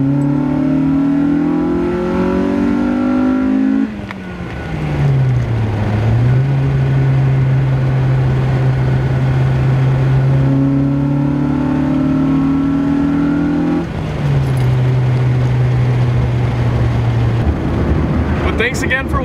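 A 2005 Honda Civic Si engine screams up through the revs, drops briefly at each gear change, then climbs again in a loud sustained pull.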